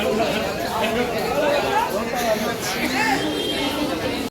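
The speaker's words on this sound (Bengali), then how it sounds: "বাবা ভীষণ ভিড়।" Dense crowd chatter fills busy Sealdah railway station, a steady close wash of many overlapping voices with no pauses, and a nearby speaker talks over it.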